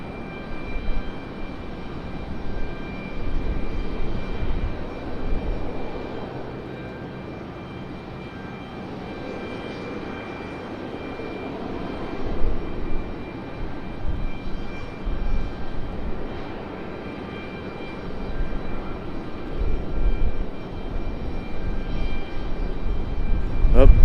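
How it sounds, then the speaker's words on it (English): An American Airlines 777 pushes back at Raleigh-Durham airport, its jet engines giving a continuous low roar that swells and eases over time, with wind noise and no speech. "we do have American Airlines 777 pushing back finally an hour late"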